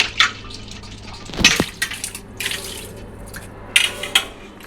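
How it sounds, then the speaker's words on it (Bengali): Running tap water at a home sink while dishes are scrubbed, splashing and trickling with a few clinks of utensils, close and moderately loud, no talking. "তো এই যে মেয়ে বাসন মেজে দিচ্ছে"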